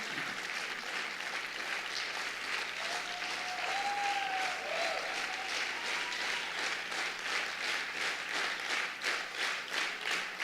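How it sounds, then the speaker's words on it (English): An audience at a talk claps together in a steady rhythm, a sustained run of even, repeated group claps, moderately distant and continuous with little speech. "Find a rhythm together and clap."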